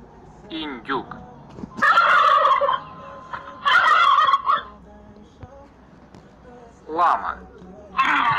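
A turkey gobbles in several loud, rapid bursts, spaced a few seconds apart, with quieter clucks between them.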